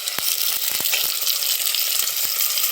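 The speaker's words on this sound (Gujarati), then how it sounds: "ચાલો મિત્રો, આપણે હવે નાખીએ છીએ ટમેટા." Tomatoes hit a pan of frying onions and chillies, setting off a loud, steady sizzle with a few soft clicks of stirring scattered through it.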